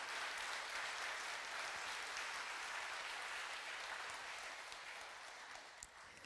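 Church congregation applauding during a Sunday service in honor of an elder, a broad, even wash of clapping heard at a distance that holds steady and slowly fades toward the end.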